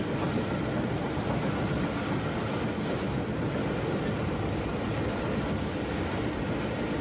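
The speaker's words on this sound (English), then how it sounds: "The electric train bearing the filmmaker soon catches up with that hauled by the" A Southern Railway electric train runs alongside a Baltic tank steam locomotive, giving a continuous loud rolling rumble of wheels and carriages with a steady broadband roar, and no voices.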